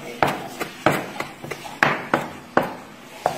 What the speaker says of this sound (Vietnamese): Thái ngược lại, băm ngược lại để cho nó ngọt thêm.